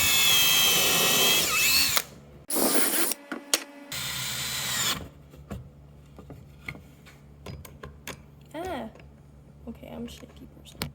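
A power drill bores a pilot hole in wood in two loud, close whirring bursts separated by short pauses, then stops. People talk quietly afterward amid light handling noises.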